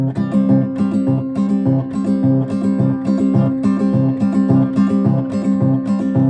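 Steady, continuous Cook Islands-style guitar strumming with a bright, rhythmic chop, played close and loud with no voices.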